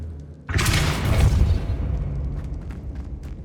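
A Depulso spell in Hogwarts Legacy blasts apart a barricaded archway with a sudden loud boom, followed by a long, rumbling roar of debris that slowly fades, with no voices over it.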